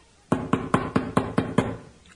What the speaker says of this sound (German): es hat geklopft. Jemand ist an der Tür.